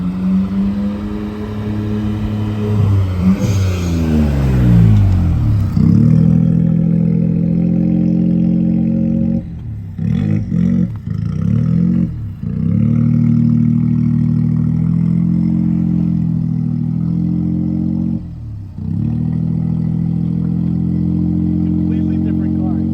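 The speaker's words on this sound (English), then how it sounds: "Now let's just focus on 2 cappuccinos cruising." Two Suzuki Cappuccino kei cars cruising together, one with an idle issue, give a steady, loud mid-pitched engine drone with revving swells and brief dips, near and continuous throughout.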